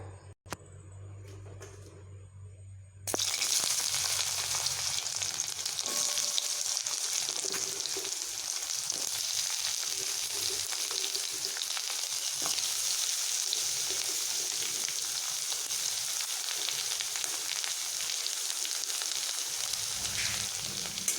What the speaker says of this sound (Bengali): তেল আমার গরম হয়ে গেছে এবার আমি এখানে করলাগুলোকে বা উচ্ছেগুলোকে এখন ছাড়বো